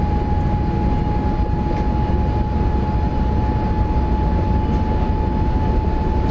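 A BR 101 electric locomotive hauls an Intercity train at about 200 km/h in Train Simulator Classic. It makes a loud, continuous rumble and roar with a steady high tonal whine, running the whole time with no voices.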